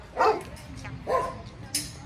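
A dog barks three times, short separate yaps spread over a couple of seconds, moderately close indoors.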